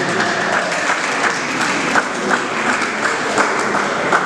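Steady applause from the audience at the cultural centre's opening ceremony, a dense clapping wash holding for the full stretch with small swells, fairly close and loud.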